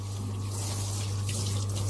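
Steady tap water pours into a bath while a dog is washed, a constant close hiss with a low hum beneath, no voices.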